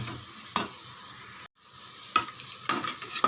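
Spoon stirring a tamarind and carrot curry in a pot, close up, a few scraping strokes over a soft sizzle and bubbling, with a brief drop to silence midway; no talking.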